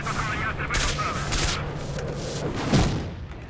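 Enemies open fire on the player in S.T.A.L.K.E.R.: Shadow of Chernobyl, with several loud, sharp gunshot bursts cracking out at irregular intervals over a rumbling battle background.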